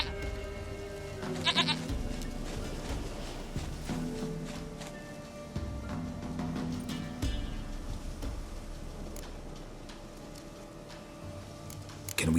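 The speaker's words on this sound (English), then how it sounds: "Goat of mine, dearest," A goat in The Witcher 3 bleats over steady game ambience, with one short, distinct bleat early on and soft footsteps and background sounds continuing.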